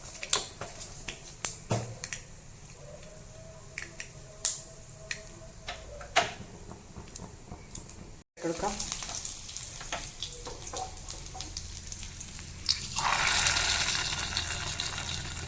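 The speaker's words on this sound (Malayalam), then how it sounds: "കുറച്ച് എണ്ണ ഒഴിച്ചിട്ടുണ്ട്, വെളിച്ചെണ്ണയാണ്. ഇനി അതിലേക്ക് കുറച്ച് കടുക് ഇട്ട് കൊടുക്കാം." Mustard seeds pop and sputter in hot coconut oil, sharp scattered crackles near at hand that build into a denser, hissing sizzle toward the end.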